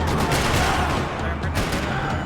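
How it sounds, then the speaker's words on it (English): Dense gunfire rattles in the video game Max Payne 3, a loud continuous fusillade of rapid shots with sharp bursts, close and sustained, with no speech over it. "Gunfire."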